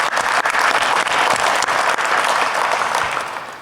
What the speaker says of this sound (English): can we give her a round of applause, please?